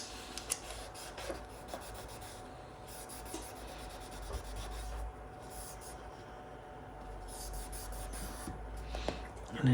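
Leftover glue is rubbed off an iPhone 11 Pro Max frame during a glass and touch replacement, a faint continuous scratchy rubbing with small clicks and scrapes, close and quiet, no talking.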